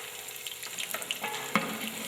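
Onions and butter frying in a pan, stirred with a utensil, give a soft steady sizzle with a few light scraping clinks near the middle.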